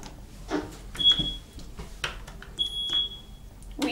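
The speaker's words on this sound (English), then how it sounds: "Weak alarm." Alarm inside a Schindler scenic hydraulic elevator at a Holiday Inn Express gives two short, weak, high-pitched beeps over the low rumble and vibration of the moving car.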